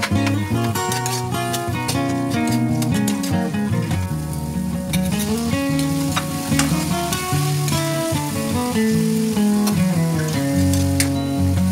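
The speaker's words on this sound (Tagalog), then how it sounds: "Magigisa na tayo." Sliced bitter gourd (ampalaya) sautéing in a pan, a steady loud sizzle and crackle of frying with scraping stir noises throughout.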